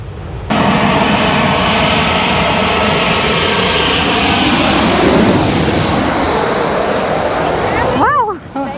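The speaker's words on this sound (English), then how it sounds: "That's what you call a plane going over your head." A fixed-wing airliner climbing out after takeoff from Lanzarote roars directly overhead, a loud sustained engine rumble that swells and then fades, with voices briefly audible at the end.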